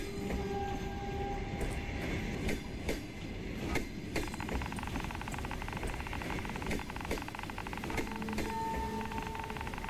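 A train rolls past in fog, with a steady rumble broken by a series of sharp wheel clacks and metallic squeals at moderate distance. No one speaks.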